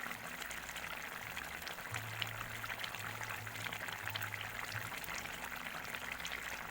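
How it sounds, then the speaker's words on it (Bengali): Tilapia fish curry simmering in a pot at a home stove, giving a faint, steady bubbling and watery burble that runs alone beneath a low hum. "কি সুন্দর ফোট এসেছে"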